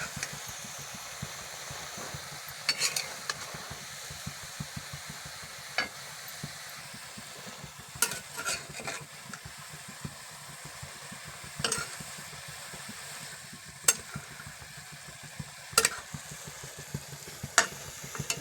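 Dill greens (shepu bhaji) frying and being turned in a wok without added water, a low steady sizzle broken by intermittent scraping and clinking stirring strokes, close and fairly quiet.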